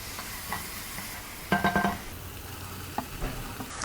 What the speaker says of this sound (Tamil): வெண்டைக்காயை நல்லா வதக்கிக்கலாம்